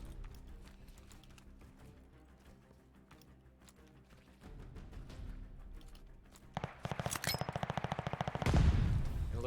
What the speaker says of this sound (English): It looks like shots being rang out.